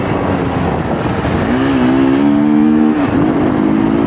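A Hero Xtreme 200R motorcycle engine fitted with a K&N air filter revs up and holds, then dips and rises again, a close, loud rasping drone with a rising and falling pitch.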